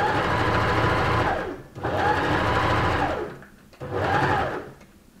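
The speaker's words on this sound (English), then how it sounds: "So you sew all the way down using your largest stitch," A sewing machine runs a long straight stitch on its largest stitch length while upcycling old clothes into new fabric, whirring steadily in three sustained loud runs with brief stops between them.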